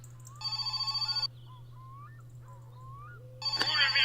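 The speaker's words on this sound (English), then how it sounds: "the phone rings." An old-style telephone bell in the video game My Summer Car rings in two loud bursts of rapid trilling, with a quiet gap between them, set against a steady low hum.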